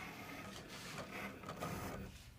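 An electronic cutting machine cutting paper hearts, a steady whirring mechanical hum with faint shifting tones, continuous and fairly quiet, no talking.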